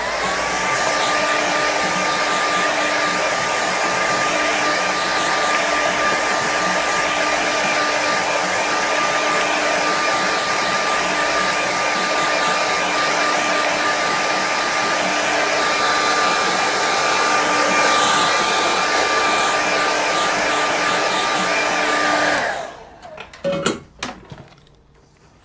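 Loud, steady hair dryer blowing close up for about twenty seconds, used to dry a winter landscape watercolour painting, then switching off and leaving brief handling noises.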